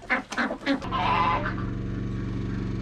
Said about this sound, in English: So what we got here, Ashley, we got some chickens, roosters, ducks.